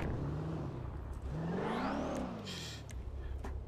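A car engine in a video game revs hard, its whining pitch sweeping up and then back down over a steady motor drone. The sound is fairly loud and continuous, with brief whooshing bursts and no talking.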